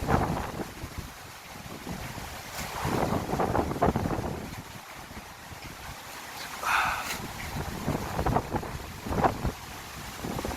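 Strong gusts from Typhoon Lingling batter the microphone with heavy, surging wind roar that swells and fades over several seconds, loud and close, with only brief faint sounds in the background.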